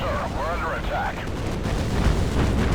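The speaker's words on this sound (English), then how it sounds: "We can see the mines popping off there with the large explosions." Naval battle in the video game Battlestations Pacific, with mines and large explosions mixed with anti-aircraft flak, a dense, continuous rumbling roar of blasts and gunfire with no clear gaps, and no speech heard over it.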